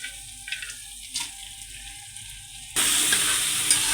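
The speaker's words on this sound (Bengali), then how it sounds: "এখন হচ্ছে যে কেটে রাখা আলুগুলো দিয়ে দেবো।" Cut potatoes hit a hot pan in a village kitchen. Quiet scraping and stirring give way to a sudden, loud, sustained sizzle of frying.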